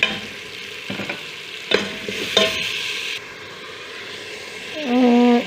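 Mixed vegetables stir-fried in a pan with coarsely crushed dry coriander and turmeric, giving a steady sizzle with a few scraping stirs, and a louder rising hiss near the end.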